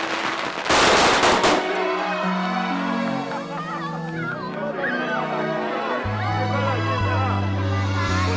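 A sharp crackling burst of firecrackers pops loudly at first, then fades under a busy mix of voices and festive background noise.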